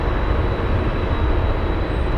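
A Boeing 777 jet takes off at Anchorage airport, giving a steady, loud, broadband engine roar that holds constant throughout.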